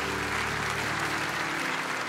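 A worship-service congregation breaks into continuous, full applause for God, loud and even from start to finish, with a faint sustained musical tone underneath.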